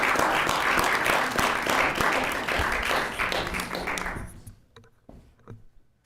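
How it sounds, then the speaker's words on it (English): Applause from the audience at a school board meeting for a teacher, steady dense clapping for about four seconds that thins out and fades to scattered claps. "Let's give her a round of applause."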